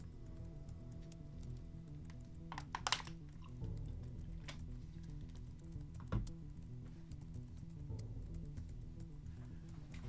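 Soft, rapid keyboard typing from a cow character on a laptop in a game stream clatters quietly and continuously under a low ambient hum, with a few sharper clicks standing out.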